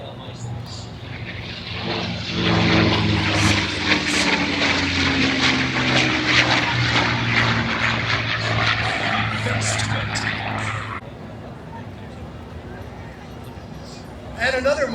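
A propeller-driven Mustang flies past at the Miramar air show, its engine droning and swelling to a loud, close pass before fading, with crowd and voices heard around it.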